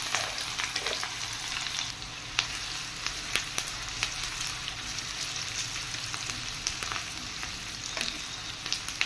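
Onions and green chillies frying in hot oil, a steady loud sizzle with crackles and small pops that runs without a break from start to end, with no voices.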